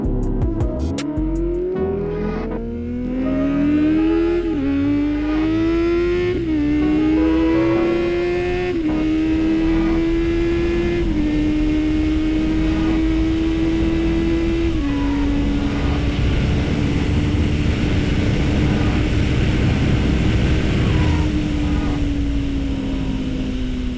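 A motorcycle ridden at sunset in Arizona, its engine revving hard and climbing through several gear shifts, each upshift dropping the pitch before it rises again; loud, close and continuous, with no talking.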